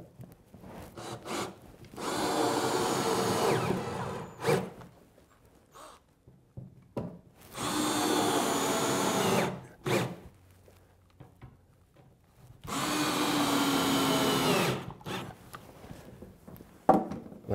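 Power drill boring holes through side planks of a 23-foot V-bottom wooden skiff under construction, three loud sustained bursts of two to three seconds each separated by quiet pauses with light handling knocks.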